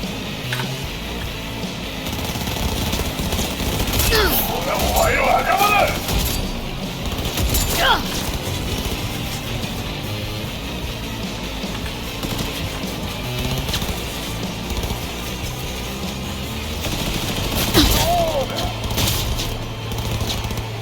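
Enemy gunfire in the game Cyberpunk 2077 sounds as bursts of shots and impacts over a constant rumbling game background, heavier near the middle and end, with someone talking throughout.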